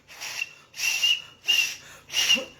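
A person whistles four sustained, high notes in even bursts separated by short pauses, clear and close.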